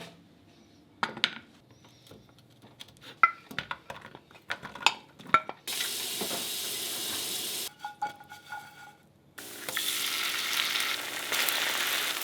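A breakfast of eggs, potatoes and cheese is made, with scattered clinks and taps of pans and utensils first, then loud bursts of frying sizzle that cut in and out, separated by a short quieter spell.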